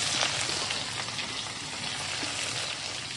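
Bay leaf, chopped onion and green chilli fry in hot oil, producing a dense, continuous close sizzle with faint crackles throughout, without speech.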